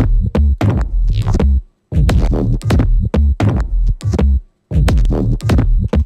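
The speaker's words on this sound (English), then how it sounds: "they have their own phrase and they sound as one bass line" Deep, punchy layered bass samples in an electronic music production workflow, played as a rhythmic phrase of throbbing hits with short gaps between bars.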